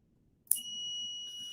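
An electronic alarm starts abruptly and sounds as a steady, piercing high-pitched tone that holds on, loud and alone with no talking.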